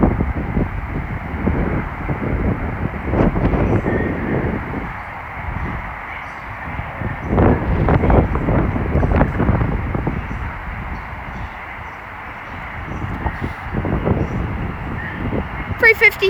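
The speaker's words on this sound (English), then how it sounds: "now arriving is the 1436 London Northwestern Railway service from Birmingham New Street to London Euston. Being worked by a pairing of class 350 Desiros" A pair of class 350 Desiro electric units on a London Northwestern Railway service pull into Milton Keynes Central on the West Coast Main Line, giving a steady rumble with wind buffeting the microphone, while an announcer speaks.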